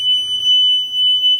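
Fire alarms in Airbnb lodging give a steady, piercing high-pitched electronic tone that holds without a break, loud and alone in the room.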